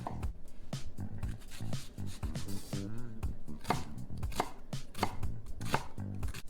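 Knife chopping onion and garlic on a cutting board for a vegan BBQ lasagna sauce: a steady run of close, crisp knife strikes, some quick bursts, with bumps and thuds between, no talk.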